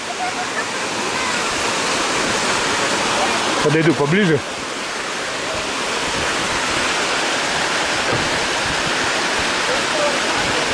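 Roaring waterfall roughly 25–30 metres high on a scenic Russian mountain road, a dense continuous wash of falling water close by, with someone speaking briefly over it.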